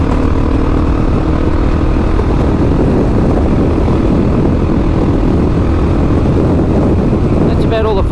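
A loud, steady roar of wind buffeting the microphone and engine drone comes from a Husqvarna 701 or BMW G 310 GS adventure motorcycle riding an Australian road past caravans, continuous and dense throughout with no clear speech.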